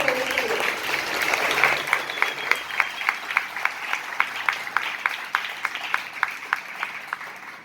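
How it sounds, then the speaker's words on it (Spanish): A church audience applauds during a sermon, a broad wash of clapping that gives way to a single sharp, evenly spaced rhythmic clap carrying on steadily near the mic, moderately loud with no speech on top. "Denle un fuerte aplauso."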